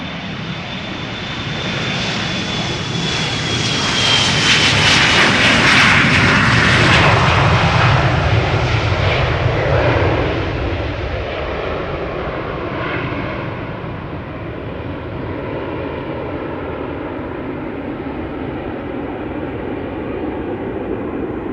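A KLM airliner on flight 1799 bound for Düsseldorf roars loud and close for its whole length, its engine noise swelling to a peak in the middle and then holding at a steady, broad rumble as it moves off.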